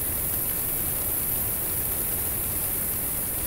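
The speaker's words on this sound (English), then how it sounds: "As the bats start coming out into the sinkhole, you start hearing the fluttering of all their wing beats." Millions of emerging Mexican free-tailed bats flutter out of a Texas cave sinkhole, a dense, steady, loud hiss of wing beats like rain on a roof, with no voices.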